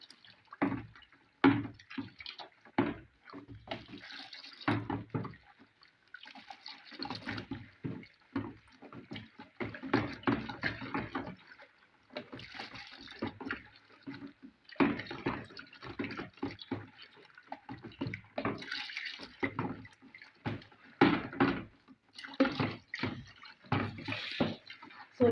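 One liter of room-temperature water poured in repeated splashing bursts with short pauses, close up, filling a container for homemade fabric softener; no talking.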